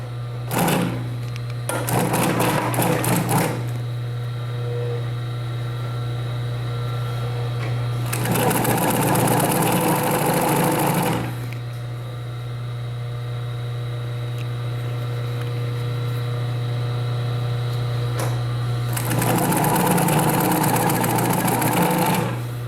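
A domestic sewing machine stitches a basic straight seam through layered fabric, a close, fast mechanical whirring in three bursts separated by pauses, over a steady low hum with no voices.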